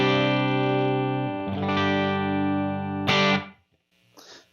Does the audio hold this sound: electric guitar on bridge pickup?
yes